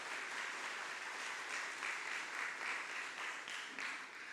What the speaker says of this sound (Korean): 함께 박수하고 환영하겠습니다